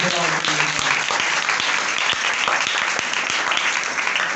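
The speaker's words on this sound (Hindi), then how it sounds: "जोरदार तालियां उस खुदा के लिए।" A congregation at a Christmas church service breaks into loud, dense applause, a steady roar of clapping that holds at full strength without easing.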